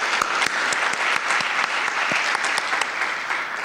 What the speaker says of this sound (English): Let's give another round of applause for all the finalists.